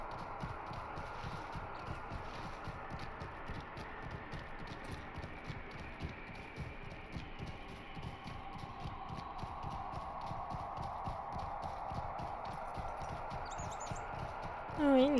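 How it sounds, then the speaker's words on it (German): Horse hooves clip-clop in a steady, continuous rhythm while riding in Lord of the Rings Online, moderately loud throughout the stretch, with a voice talking over the hoofbeats. "Oh, ich liebe dieses Pferdchen. Das Pferdchen ist schön."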